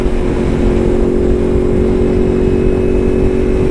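A motorcycle engine with a stock exhaust drones steadily at high revs, a continuous buzzing roar up close with wind rushing over it.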